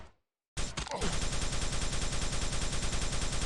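Rapid, continuous plasma gun fire in a fast-paced arena shooter video game during strafe jumping and plasma climbing; a dense, steady machine-like stream of loud pulses that runs unbroken after a brief silence.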